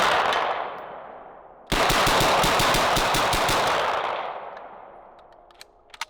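A machine gun fires one long continuous burst of rapid, loud shots after a fading, echoing tail from an earlier burst, then the sound decays away with a couple of faint clicks at the end.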